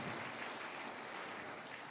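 Applause rises for award winners at a business trophies evening in Valence Romans, a dense, even patter of many clapping hands that sounds fairly distant and quiet throughout.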